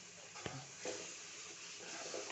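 Water poured into wheat flour roasting for atta halwa sets off a faint, steady sizzle and hiss. Soft stirring scrapes run through it, and the sizzle swells slightly toward the end.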